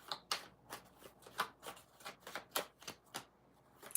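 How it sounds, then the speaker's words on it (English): A deck of tarot cards is shuffled by hand in a quiet room: a rapid series of crisp, papery riffles and taps in an uneven rhythm, close and soft with no talking. "You watching me shuffle?"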